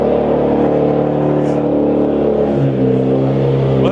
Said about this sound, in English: They started up the race car over here.